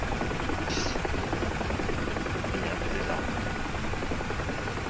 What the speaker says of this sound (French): je suis un petit peu plus concentré sur mon pilotage d'hélico